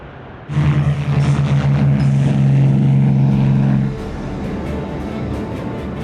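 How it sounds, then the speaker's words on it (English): US propeller warplanes droning loudly overhead, a steady engine roar with a strong low hum that holds for several seconds, then eases back into a quieter, distant rumble. "the US planes were arriving over the Japanese coast"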